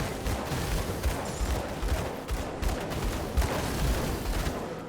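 Aether dual pistols firing in the video game Grim Dawn, a dense, steady barrage of rapid shots with no letup.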